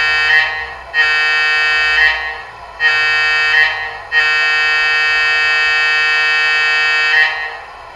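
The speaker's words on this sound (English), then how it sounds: "Here's the horn." A loud, harmonically rich electronic horn from an MTH model PRR W-1 steam locomotive sounds in several blasts: two short toots, a brief one, then a long sustained blast, each cutting off cleanly.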